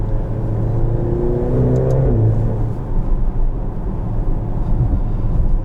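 A 2023 Maserati Grecale Modena SUV engine revs hard and climbs in pitch, then drops sharply as the gear shifts at high RPM and the rumble settles into a steady drone. It is loud and continuous, with no voices.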